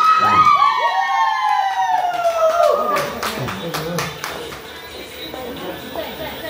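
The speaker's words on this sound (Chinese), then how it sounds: "掌声有请。" Party crowd at a birthday celebration in Litang bursts into cheering, whoops and scattered clapping, loud and close at first and then settling into a busier, lower crowd din with sharp claps and shouts.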